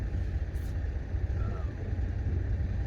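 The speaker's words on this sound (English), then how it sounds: "parked at a truck stop this time, as you can probably hear" Low, steady rumble of idling trucks parked at a truck stop in the hill country, a continuous diesel drone filling the background with no clear changes, a brief faint hiss near the start.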